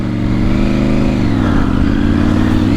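A Triumph Tiger 900 Rally motorcycle revs hard in second gear through desert sand, a close, loud, steady engine drone with the pitch shifting as the throttle varies.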